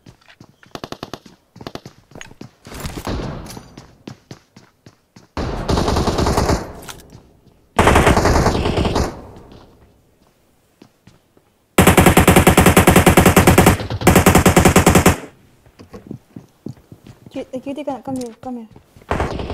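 Several loud bursts of rapid Uzi fire ring out in a video game, separated by quieter stretches of clicks, footsteps and a person talking.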